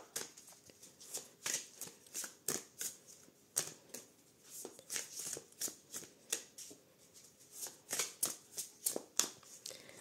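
Tarot cards being shuffled close up, a rapid series of crisp riffling flicks and slaps repeating in bursts over ten seconds, quiet and alone without speech.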